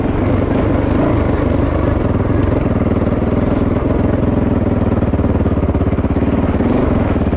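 Close, loud running of a Fantic 450 Rally motorcycle's engine, a tinny, clattery drone that stays steady with slight rises in revs across the whole stretch.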